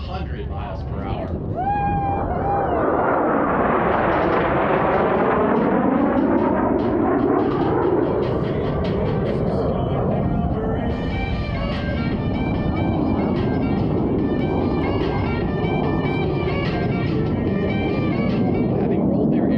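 Blue Angels jets passing over show center at an airshow at NAF El Centro, a loud sweeping engine roar that rises and falls with a Doppler shift while an announcer talks continuously over it.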